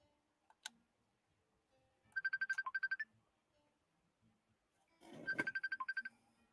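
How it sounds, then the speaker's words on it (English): An incoming call rings on a phone, in two short bursts of rapid electronic trills separated by a few seconds of near silence, with a couple of faint clicks before the first ring. "Somebody keeps calling me."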